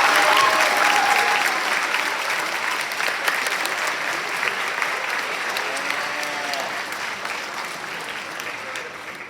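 An audience at a conference event claps for the opening speaker, with loud, sustained applause and a few cheers running throughout, thinning slightly toward the end.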